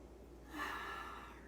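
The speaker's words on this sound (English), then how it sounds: "Take a nice deep breath." One slow, deep inhalation at the close of a Pilates session, starting softly and swelling into an audible breath of air that trails off gently, alone and fairly quiet.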